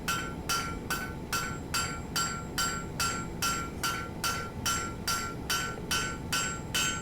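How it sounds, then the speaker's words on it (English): Welded Damascus steel hammered flat on an anvil: steady, evenly spaced ringing hammer blows, about two per second, loud and close, with no voices. "as I was flattening it out on the anvil, I noticed a crack about a third the way down"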